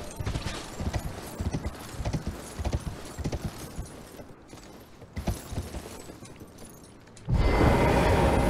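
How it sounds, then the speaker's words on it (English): Horse hooves clip-clop in the Elden Ring video game, a steady repeated stepping under game ambience, then a loud broad wash of sound takes over for the last second. "let's get our horse back"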